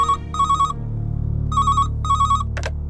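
A telephone ringtone sounds during a call home, a bright electronic melody in repeating short bursts with brief gaps, loud and close with no talking.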